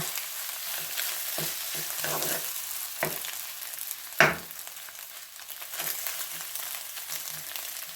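Garlic and onion stir-fried in a pan as the base for Thai fried egg with squid, a steady oily sizzle with a few scraping stirs and one sharp clatter partway through.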